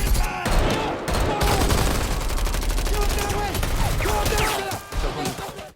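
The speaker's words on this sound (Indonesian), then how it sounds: "lagi dan lagi Polo terkena tembakan" Heavy gunfire during an ambush in a mafia film, a continuous loud fusillade of overlapping automatic shots with shouting voices and effects mixed in, cutting off abruptly at the end.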